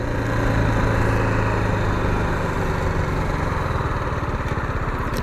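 A 2017 BMW G310R's single-cylinder engine runs steadily at idle for several seconds, a close, continuous buzzing thrum with an even pulsing beat and no voices.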